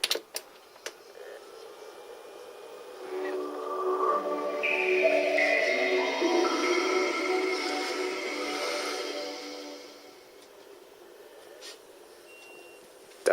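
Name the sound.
Crazy Taxi video game sounds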